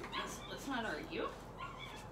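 Puppies yelping and whimpering during a dog nail trim, a tangle of high cries and yips that rise and fall close by, with people talking over them.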